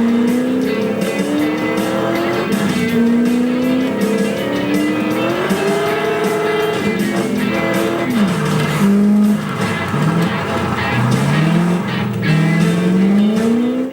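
Racing cars roar in a video racing game from a Finnish developer, with loud, continuously rising and falling engine whines layered together and bursts of squealing tires throughout, with no talking.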